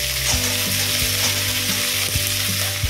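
Dried red chillies, onion, ginger and garlic fry in hot oil in a pan for a masala chicken dish, a steady close sizzle broken by a few louder bursts and scraping stirs.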